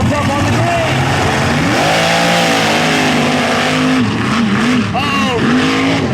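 A race truck with a big blower motor revs and roars at a mud bog track, the engine pitch rising and falling loudly under a commentator's excited talk.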